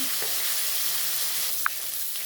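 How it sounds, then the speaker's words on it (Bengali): Chanda fish fries in oil, producing a soft, steady sizzling hiss with a faint clink partway through, brief and unaccompanied by speech. "দেখুন মাছগুলো আমার ভাজা হয়ে গেছে।"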